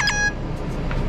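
A short electronic beep from a phone app scanning a delivery order sounds near and clear at the start, over steady traffic and car noise.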